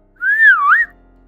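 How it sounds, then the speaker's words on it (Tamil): A single loud, close whistle swoops up, dips and rises again in a smooth melodic call to get someone's attention, lasting well under a second with silence before and after. "இப்படி கூப்பிட்டுட்டு விசில் அடிக்கிறாரு"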